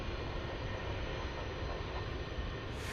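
At DFW Airport at night, a Boeing 787 Dreamliner produces a steady, distant jet roar, a constant broad rumble that holds evenly throughout.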